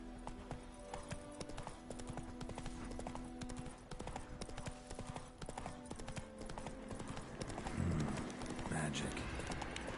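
Roach the horse gallops in The Witcher 3, a steady rapid clip-clop of hooves running throughout at close range, mixed with game ambience and a brief louder burst near the end; speech is also present.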